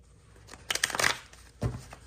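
A quick riffle of a deck of playing cards, a burst of crisp fluttering snaps followed by a soft tap as the deck settles, close and moderately loud.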